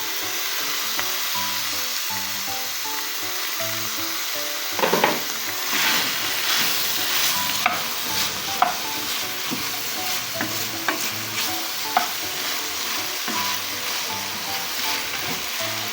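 String beans (sitaw) sizzle and fry in a little oil with coconut milk as a utensil stirs them, giving a steady close crackle with scraping strokes over soft background music.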